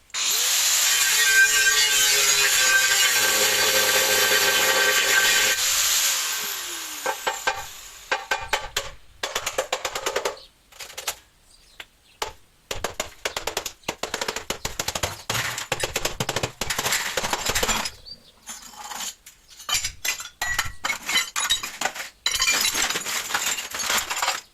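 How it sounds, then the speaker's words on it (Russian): An angle grinder whines loudly against the thick glass of a CRT TV picture tube, then breaks into choppy bursts of cutting and grinding, with scattered clinks between passes. "Кинескоп я буду разбирать при помощи болгарки."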